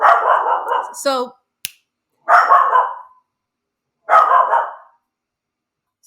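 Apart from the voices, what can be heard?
dogs barking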